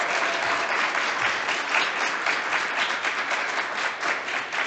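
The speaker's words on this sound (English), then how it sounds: "let's give her a round of applause" Sustained applause from a crowd at a chamber of commerce board installation event, steady and loud throughout with no pauses.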